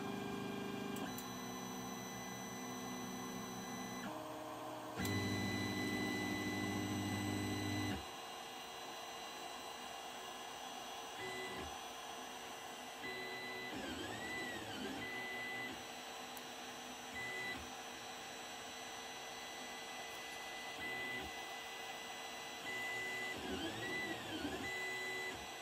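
A desktop printer runs steadily with a mechanical hum and whirring, a louder motor burst near the start, and faint beeps and tonal chirps recurring over the continuous machine drone.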